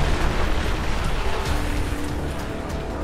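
Steady, dense rain hisses without letup in the video game Crysis 3, filling a short stretch at constant loudness with no voices.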